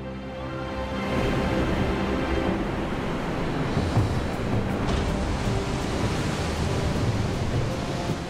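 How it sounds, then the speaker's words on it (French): Stormy Atlantic sea pounding a limestone coast under lashing winds, a dense, continuous roar of surf and wind that swells in after a quieter first second. "des vents cinglants et une mer démontée."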